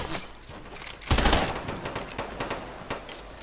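Burst SMG in Fortnite firing short clusters of shots, one sharp loud burst followed by quieter scattered pops and rattles, with no talking.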